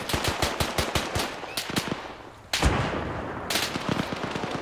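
Machine gun fire in Spearhead 1944, a World War II mod for Arma III, rapid bursts of loud, sharp shots in quick rhythmic strings, with a heavier blast partway through and more bursts following.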